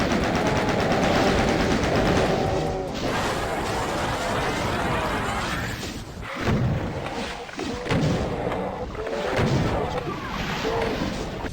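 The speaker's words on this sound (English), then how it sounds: "weapons like the super shotgun sound notably different and a lot less satisfying to use in this version of Doom" Doom weapon fire from the Xbox 360 version, played back at half sample rate, including the super shotgun: dense, dull, muffled booms and blasts come in rapid succession, loud and continuous, with a lower-pitched, crunchy character.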